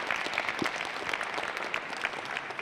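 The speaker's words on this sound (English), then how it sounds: "Let's give Title a big round of applause," Applause from an audience at a boxing promotions press conference in Branson, a steady patter of many hands clapping that stays fairly even and moderately loud across the whole stretch.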